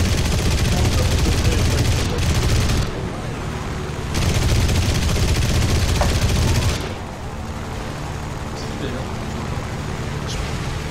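Gunfire rattles in the War Thunder video game, dense loud bursts of rapid automatic fire in long stretches that break off and resume, with players talking over it.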